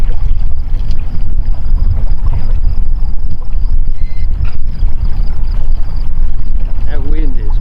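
Strong wind roars and buffets over a fishing boat on Banks Lake in Washington, a loud continuous low rumble from start to finish, with a voice partly heard beneath it.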